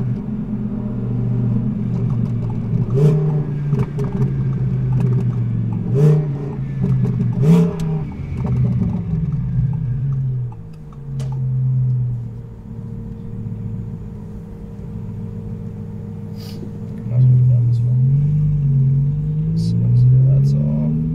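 Twin-turbo Audi R8 engine revving and accelerating in repeated surges, with a steady low rumble between pulls and louder bursts near the end, close and prominent; faint talk may sit underneath.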